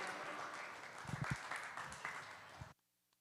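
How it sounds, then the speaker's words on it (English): Audience applause at a dairy cattle show ring during a Guernsey and Milking Shorthorn judging, a steady patter of many hands with a few voices mixed in, stopping abruptly near the end. "let's give him another round of applause"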